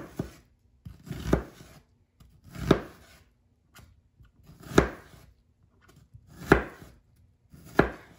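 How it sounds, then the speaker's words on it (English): A knife making incisions and cutting strips into an onion on a board, six distinct crisp chops spaced about a second apart, close and clear with quiet between strokes. "Then we're back to cutting the onion. And so I'm just making incisions, not fully cutting the onion in half."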